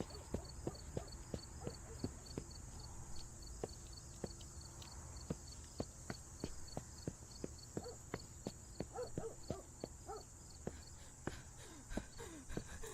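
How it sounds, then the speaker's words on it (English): Footsteps in the horror video game Remothered: Tormented Fathers, crisp evenly spaced steps over a faint ambient background, each footfall a sharp distinct tap at moderate volume. "her footstep seems to be on point too, like just the noise of the footsteps"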